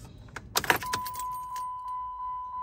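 A Jeep Patriot is switched off and its key is pulled from the ignition, giving a jangle and click of the keys followed by a steady chime that pulses repeatedly inside the quiet cabin.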